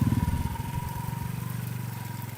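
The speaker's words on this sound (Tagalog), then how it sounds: "Sumakay sila Hilda ng motor pauwi" A motorcycle engine runs close by with a fast pulsing putter, holding steady and fairly loud throughout.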